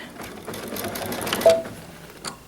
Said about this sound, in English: And lower the presser foot, start the machine. Let it stitch just a few stitches